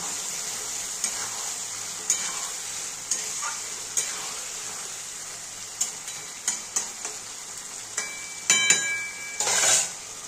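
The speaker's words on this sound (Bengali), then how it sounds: "এবার আমি মাছগুলো সব দিয়ে দেব। এবার একটু নেড়ে দেব।" Fish pieces for a fish curry stirred into fried masala in a pan, with a steady soft sizzle and a string of light, intermittent scraping and tapping stirs, close by.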